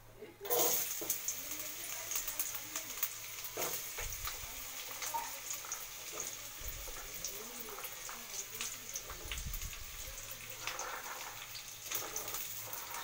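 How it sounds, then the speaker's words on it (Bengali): Capsicum, carrot and peas fry in a pan for vegetable fried rice, giving a steady, close hiss of sizzling oil that runs throughout with a few low bumps, while a voice talks over it. "এগুলো এবার একে একে ভেজে নেব"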